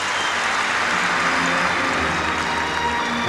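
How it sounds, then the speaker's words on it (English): An arena crowd roars and applauds in a steady, dense wash after a tumbling pass on the floor at a women's all-around gymnastics meet, sustained cheering with no breaks. "Listen to the crowd."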